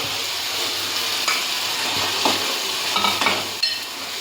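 Masala frying in a pan as fried paneer is stirred in, for palak paneer: a steady close sizzle with spatula scrapes and stirring knocks throughout, no voices.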